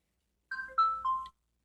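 A phone ringtone plays a short, clean electronic chime of three quick rising-and-falling notes, heard alone at moderate volume in a quiet room.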